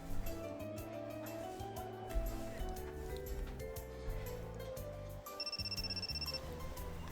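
Phone ringing early in the morning, its short electronic ring bursts heard faintly over a dense layer of music and ambient sound, with a clearer repeated ringing tone near the end.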